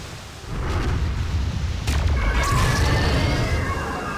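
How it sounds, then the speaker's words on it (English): Orga's Berserk Cannon rage attack in a monster video game: a heavy booming blast with rumbling low end and a crackling, lingering pulse, loud and close. "Orga sprays his cannon in all directions and unleashes a pulse that has a lingering hitbox"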